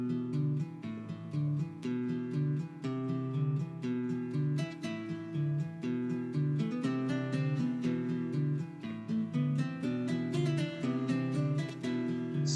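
A bard plays a happy little tavern tune, bright plucked melody with steady rhythm and chords, clear and continuous throughout, no voices.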